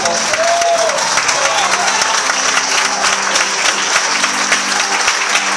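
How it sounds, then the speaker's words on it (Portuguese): A church congregation applauding during a service at an evangelical church, lively steady clapping with faint voices and a cheer rising under it. "Vamos dar uma salva de palmas pela vida do pastor da vida."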